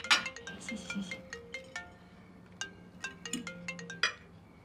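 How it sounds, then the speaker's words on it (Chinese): A mobile phone ringtone plays a repeating melodic tone pattern at moderate volume in a quiet room over about five seconds, with no voices over it. "麻烦我手机响了，我拿个电话。"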